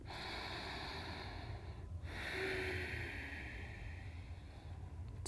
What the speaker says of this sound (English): Let's go for three breaths here